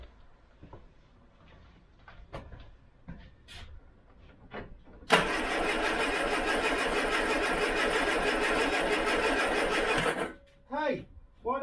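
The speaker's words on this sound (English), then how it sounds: "I'm going to attempt to start the car now." An old Austin Allegro with a weak battery is cranked and started, a loud broadband engine roar bursting in after some quiet clicks and shuffling, running steadily for about five seconds before cutting off, with brief voices around it.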